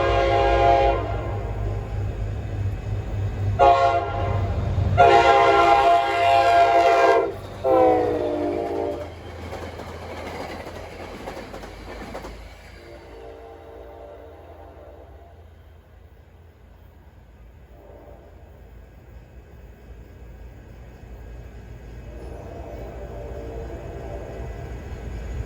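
An NJ Transit train bound for Port Jervis, with a PL42 locomotive, arrives at Ramsey station, sounding loud sustained horn blasts up close before its rumble settles into a steady rolling hum.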